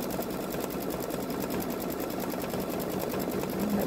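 A Babylock Solaris Vision embroidery machine stitches a Ninjago design onto a boy's long-sleeve shirt, giving a close, steady, rapid mechanical hum and patter that runs unbroken throughout.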